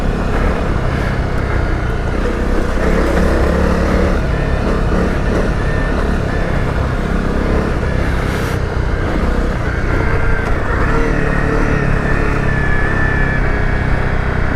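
A Honda CRF250 Rally motorcycle rides off-road over muddy, holed ground, its engine a steady, loud, unbroken drone that fills the whole stretch, with the rumble and wind noise of continuous riding and no voices.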